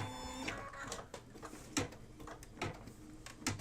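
A home embroidery machine with a 5 by 7 hoop, loaded with white thread, stitches a placement line for batting on a mug rug, giving a steady mechanical rattle with a few sharper clacks, close and moderately quiet, with no talking.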